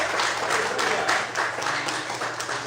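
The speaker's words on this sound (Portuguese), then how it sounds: "Será que você pode aplaudir a Deus?" Members of a church congregation applaud during a Portuguese-language worship service, producing continuous, somewhat subdued clapping from many people with a faint room wash behind it.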